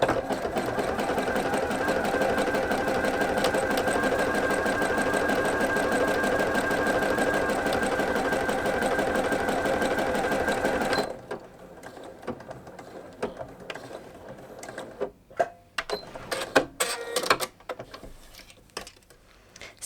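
A sewing machine runs steadily for about eleven seconds, stitching a stretch seam along jersey fabric for baby leggings, then stops, leaving scattered handling clicks and rustles.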